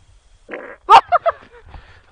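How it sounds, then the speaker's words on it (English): A fart sounds outdoors beside a lake as a short series of low, brassy puffs, with one louder burst followed by two smaller pops, close to the microphone and without talk. "I just farted."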